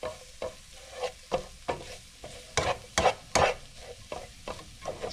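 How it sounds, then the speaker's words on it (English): Flour sprinkled over food in a pan, cooking out while a spoon stirs and scrapes in a repeated rhythm over a soft, constant sizzle, close and fairly quiet. "Just going to cook the flour out of it."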